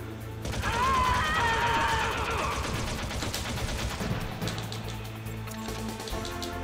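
Rapid, dense gunfire from Metal Gear Solid 1 rattles in fast bursts, loud and close, with tonal game effects layered over the shots in the first seconds.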